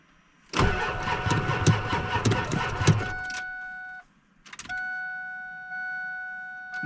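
A vehicle engine cranks and fails to start: a loud burst of rapid, rhythmic starter churning for about three seconds, a brief gap, then a steady electrical whine and chime-like tones as it dies without catching.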